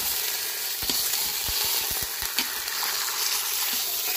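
Pork browning in a Crock Pot Express Crisp gives a steady close sizzle and crackle, with a few sharp pops and clicks around the middle as the meat is turned.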